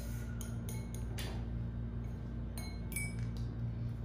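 A utensil stirs colored water in a glass for a water candle, making several bright, quick clinks against the glass over a low steady hum, faint and close.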